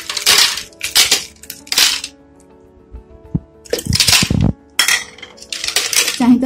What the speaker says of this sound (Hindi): थोड़े से बर्फ के टुकड़े,